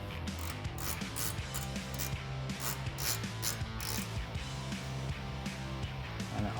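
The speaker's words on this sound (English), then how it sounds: "Use my 14mm ratcheting wrench." A 14mm ratcheting wrench clicks in quick, rapid bursts while snugging bolts on a 2014-2021 Toyota Tundra front bumper, loud and close with no talking.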